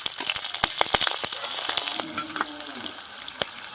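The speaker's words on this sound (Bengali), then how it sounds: "এবার দিয়ে দেব, ফোড়নগুলো দিয়ে দেব" Whole cumin, green chili, cardamom, clove and cinnamon sizzle and crackle in hot oil for tempering, with close, busy popping and spitting and a few sharp spikes, while a spoon scrapes and stirs the pan.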